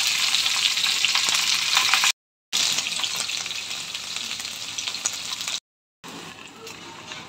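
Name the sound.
paneer shallow frying in hot oil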